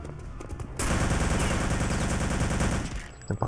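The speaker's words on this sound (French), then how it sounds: "Je prends le fusil d'assaut." Sustained burst of automatic assault rifle fire in Return to Castle Wolfenstein, loud and continuous for over two seconds after a quieter opening, ending abruptly.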